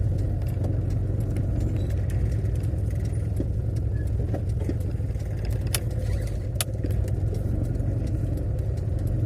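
A car rolls slowly along a rough, uneven road, its steady low engine drone close and constant, with occasional small clicks and rattles from the cabin.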